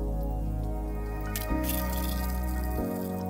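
Liquid aloe vera soap is poured into a mold, giving soft, close dripping and squishing sounds over a steady low hum, with a few brief louder splashes.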